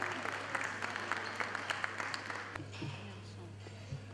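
Applause at an awards ceremony in a hall, a steady patter of clapping with a low hum underneath that thins out partway through as a voice begins speaking.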